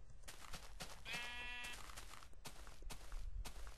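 A Minecraft-style video game sheep gives one clear, nasal bleat lasting about half a second, heard up close among choppy bursts of other game and background noise.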